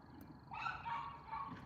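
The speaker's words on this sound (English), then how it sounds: "Y'all hear Cujo barking" A dog barks and yips somewhere in the background, a short burst of muffled, fairly faint bow-wows lasting about a second, with no voices over it.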